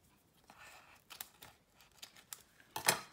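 Scissors trim Rococo Rose ribbon during card making, a few quiet, close snips and cuts scattered irregularly, the last one sharper and louder, with light paper rustling between and no talking.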